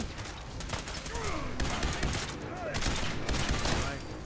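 Fallout 4 combat gunfire at Fort Hagen, rapid bursts of shots and bullet impacts crackling continuously, fairly loud, with a voice speaking over the fighting.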